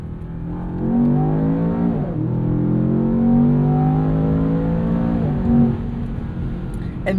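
A Land Rover Defender Octa with a twin-turbo V8 pulling hard through the gears in an aggressive sport mode, its engine note rising loudly, dropping briefly at each quick upshift, then climbing again.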